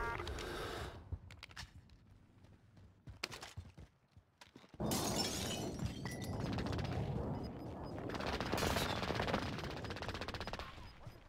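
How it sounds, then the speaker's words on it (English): Rapid bursts of gunfire and crackling impacts aimed at the player in a video game shooter, dense and loud, with a quieter stretch of sporadic shots before a sustained barrage. "I'm getting shot at."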